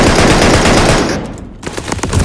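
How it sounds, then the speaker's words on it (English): Rapid automatic gunfire in Call of Duty: Vanguard, loud bursts filling the first second, a short pause, then more shots resuming. "You're shooting at walls."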